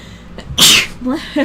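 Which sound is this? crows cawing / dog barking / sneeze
sneeze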